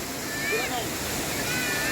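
Steady broadband rush of the Ciberem waterfall on Mount Pangrango, a constant wash of falling water with faint tonal whistles drifting over it and no speech.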